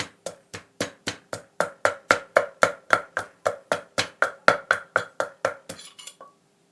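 Garlic pounded in a mortar for som tam: around twenty sharp, evenly spaced pestle thuds in a steady rhythm, close and clear, ending with a few softer scraping knocks.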